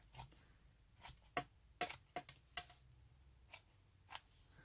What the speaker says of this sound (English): So we're going to cut off this seam.